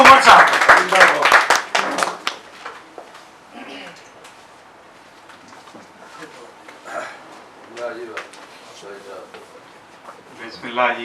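Audience applause for a politician at a Punjabi gathering: a dense burst of loud clapping for about two seconds that then fades under someone speaking at length.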